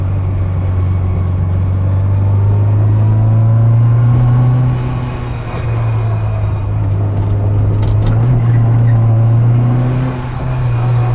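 A rare Austin Mini Cooper S drives along with a loud, steady engine drone that rises and dips as it changes pace, heard close from inside the car.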